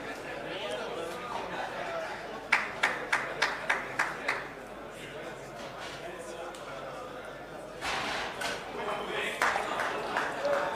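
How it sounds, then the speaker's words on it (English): Snooker crowd breaking into applause after a frame in a race-to-nine match, a short burst of clapping from around two and a half seconds, fading, then another swell of clapping near the end over a low murmur of chatter. "Crowd claps, thoroughly entertained."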